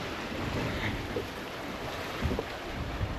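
Steady wind rushes across a sailboat running wing-on-wing at sea in about ten knots, mixed with wash of water and microphone buffeting, continuous and fairly loud with no talking.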